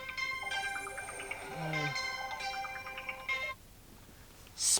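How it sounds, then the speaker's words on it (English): A phone ringtone from an incoming spam call plays a bright, repeating electronic melody for a few seconds, then cuts off, leaving quiet room tone before a brief noise at the end. "Spam phone call."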